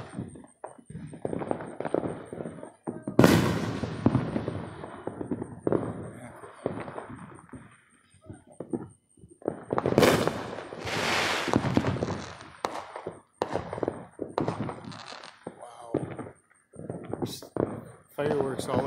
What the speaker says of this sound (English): Fireworks all around us here.